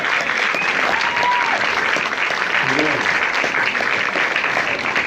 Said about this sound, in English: Ladies and gentlemen, a big round of applause for Aaron